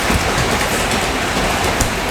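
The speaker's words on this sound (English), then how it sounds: "Now it is raining here and I am continuing my video" Steady, dense rainfall hisses loudly and evenly throughout, close by and with no voices over it.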